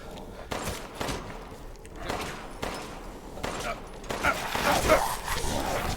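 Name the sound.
gunshots in the video game Resident Evil 8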